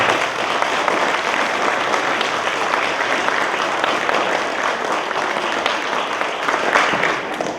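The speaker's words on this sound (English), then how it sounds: "Yes, let's give them a hand." Sustained applause from an audience at a Tamil Heritage Month event at Fleming, dense steady clapping at an even level from start to finish.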